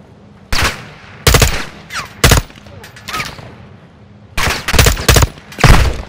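Bursts of gunfire from Call of Duty: Modern Warfare II, several loud, close volleys separated by short gaps, with faint crackling fire between them.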